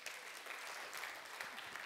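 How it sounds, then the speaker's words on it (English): An audience gives Roland a round of applause, a steady wash of clapping held at an even level from start to finish, heard from a distance and fairly faint. "Let's give Roland a round of applause"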